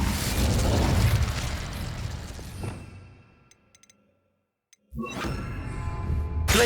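Casting the Incendio fire spell in Hogwarts Legacy: a loud fiery burst that roars and fades into near silence, followed by a sudden second blast of flame.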